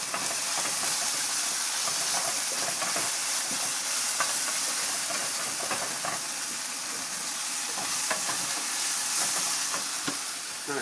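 Chopped onions frying in a little oil in a pan while mango chicken is cooked give off a steady, close sizzle that holds at the same level throughout, with no voices.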